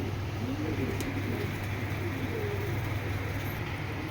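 A pair of maxi racer pigeons coo softly in low, throaty bursts over a steady background hum, quiet and fairly close, with no voices.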